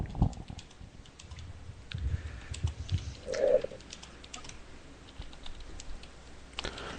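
Keys clacking on a computer keyboard, quick uneven typing that runs close and fairly quiet, with brief pauses between bursts of strokes.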